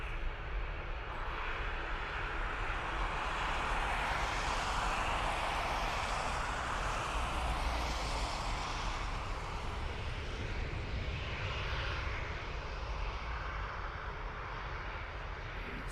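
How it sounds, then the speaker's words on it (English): A fixed-wing airliner flies at Dublin Airport into a slight headwind, its engines roaring as a steady, loud broadband rumble that holds evenly for the whole stretch with no talking. "So as you can see, the aircraft flying into a very slight headwind"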